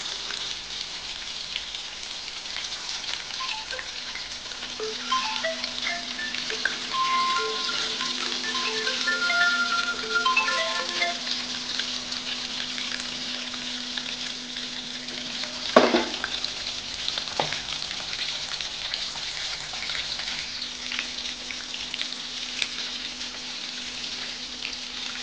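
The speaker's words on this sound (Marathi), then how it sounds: "कढईमध्ये मासा सोडला की अवघ्या 5 मिनिटांमध्ये मासा हा तळून मोकळा होतो" Masala-marinated fish frying in oil in a kadhai: a steady, rain-like crackling sizzle that holds for a long stretch, with a faint low hum and a couple of brief sharper clacks midway.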